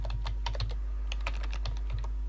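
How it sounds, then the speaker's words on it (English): Rapid, irregular keystrokes on a computer keyboard as a fax subject line is typed on an AVM Fritzbox setup, close and crisp over a steady low hum, with no voices. "And now the subject, typing something in the subject,"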